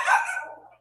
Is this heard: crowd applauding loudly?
no